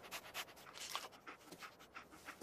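A dog pants rhythmically in a video game, quick repeated breathy huffs at an even pace, faint and close, with no talking.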